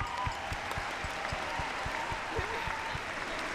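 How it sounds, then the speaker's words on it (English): An audience applauds the first-place winner of a champion class at the Crufts 2026 dog grooming presentation, with steady, moderately distant clapping that holds evenly throughout. "So first place, big round of applause, goes to Cara Boyd and Teddy"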